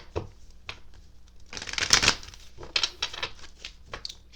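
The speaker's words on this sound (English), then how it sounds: "Just want to shuffle it 2 more times" Tarot cards being shuffled by hand, a series of soft riffling bursts and light taps up close, fairly quiet with no talking.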